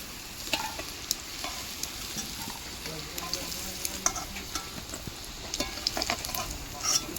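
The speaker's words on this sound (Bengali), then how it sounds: "আলু কিন্তু লাল করে ভেজে নিই" Potatoes for a mutton curry fry in oil until reddened, a steady crackling sizzle with light clicks of stirring throughout, fairly quiet and unbroken by speech.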